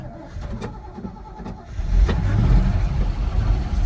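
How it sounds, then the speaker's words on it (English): Vehicle engine with a manual choke fired by push-button start, cranking into a low steady rumble that rises partway through and keeps running close by, with faint bird cooing in the background. "Got a manual choke. There we go. Turn the key on. There we go. And then push button start."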